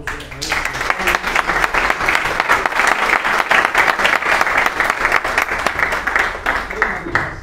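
An audience at a civic ceremony handing the Constitution to new eighteen-year-olds breaks into sustained applause, dense steady clapping from many hands close by for several seconds, fading slightly at the end.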